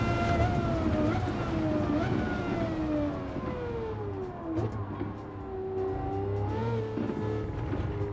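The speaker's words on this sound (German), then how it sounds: "Der V12 Motor hier. Wunderschöner Sound." A Lamborghini Murcielago's V12 engine in Gran Turismo 7 on the Monza circuit rises and falls in pitch through the gears, a loud continuous wail with a German-speaking commentator talking over it.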